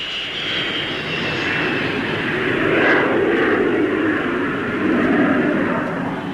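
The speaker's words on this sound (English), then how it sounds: "Coming into land, the nose is lowered." Jet aircraft coming in to land at the Farnborough air show in the 1950s, a loud continuous roaring engine drone that swells slightly as it passes.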